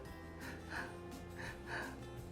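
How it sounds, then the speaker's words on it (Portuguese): A person deliberately breathes in rapid, shallow breaths, short close puffs of air in quick pairs, soft and near. "Eu começo a respirar muito rápido."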